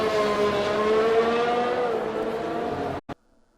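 Onboard F1 race car at the British GP in a racing game, a loud, high, steady engine whine rising slightly in pitch for about three seconds, then abruptly cut off with a brief blip.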